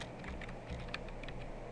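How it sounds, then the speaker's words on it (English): Quick, light keystrokes on a computer keyboard, a soft run of clicks over a faint steady hum, close to the microphone with no voices. "And I'm just going to start typing."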